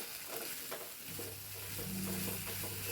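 Fish masala stirred in a pan for a Kerala-style pearl spot fish pollichathu, with a soft, steady scraping and light sizzle and a low hum underneath, fairly quiet throughout with no talking.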